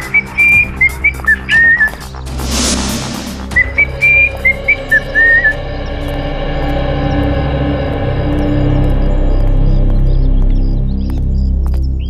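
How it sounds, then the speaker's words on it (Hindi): A man whistles a short tune in several bright phrases as he walks up, followed by a steady low background hum with no further whistling. "बड़े आराम से सीटी बजाते आ रहे हो"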